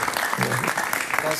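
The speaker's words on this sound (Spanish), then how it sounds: "Un aplauso para él, por favor." A studio audience claps to welcome a guest, a short burst of applause with a voice talking over it.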